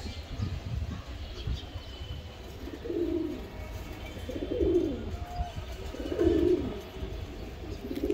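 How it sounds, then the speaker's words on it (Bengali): Soft, low racing pigeon coos repeat in three or four rounded phrases about every second and a half over a faint outdoor hum. "এখানে আরেক পেয়ার কবুতর আছে"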